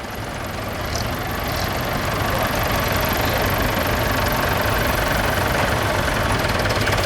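An old tractor engine runs in a parade arena at a spring fayre, a continuous, rough, knocking rumble holding steady and fairly loud throughout.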